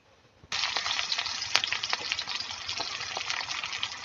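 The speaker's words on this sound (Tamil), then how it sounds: "இதில் கொஞ்சம் சீரகம் போட்டுக்கலாம். பொரிஞ்சோடனே வெங்காயம் சேர்த்துக்கலாம்." Cumin seeds and onion hit hot oil for Tamil kothu chappathi, setting off a sudden loud, steady sizzle after a short quiet moment, with a few crackling pops on top and no talking.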